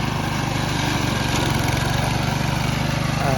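A small walk-behind tractor fitted with a 60 cm grass-cutting blade head runs steadily close by, its engine chugging in a rapid, even low throb with a constant mechanical drone and no talk.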